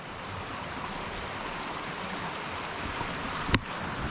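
A wide creek in the East Tennessee mountains rushes steadily, a dense, even wash of flowing water heard up close, with a brief sharp knock near the end.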